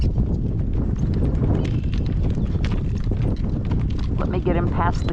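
Horse hooves clip-clop steadily in a working trot during a gale-force windstorm, with wind roar and buffeting over the mic, and a voice briefly heard.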